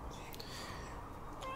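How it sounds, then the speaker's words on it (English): A house cat meows quietly in a room during a live game stream, one faint drawn-out mew under a steady background hum. "And now my other cat is speaking."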